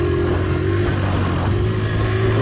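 A 1983 Honda XL100 motorcycle engine pulls hard up a hill after a downshift, a steady loud droning rev with a sustained low hum and slight rising pitch, close and continuous.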